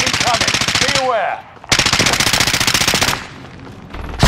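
Rapid automatic gunfire in Call of Duty: Modern Warfare, two loud sustained bursts separated by a short pause, close and dominant, with a faint voice underneath.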